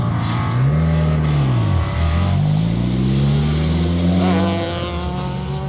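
Rally car engine on an asphalt stage of the Protyre Asphalt Rally Championship: loud, close revving with pitch dropping and rising through gear changes as the car powers past.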